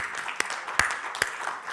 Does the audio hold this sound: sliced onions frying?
no